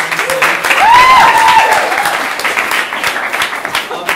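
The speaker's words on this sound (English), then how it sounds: "Can we give Cliff a round of applause for being awesome?" An audience at a campus entrepreneurship event claps for a student leader, a full round of applause with a brief whistle-like tone rising over it early, then tapering slightly toward the end.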